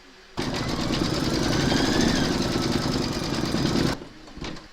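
An embroidery machine stitches a gold-thread monogram on an in-the-hoop notebook cover, giving a fast steady mechanical whirr for about three and a half seconds before stopping abruptly, with a brief clatter afterward.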